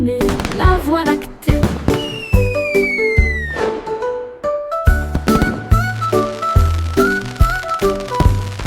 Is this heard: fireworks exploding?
yes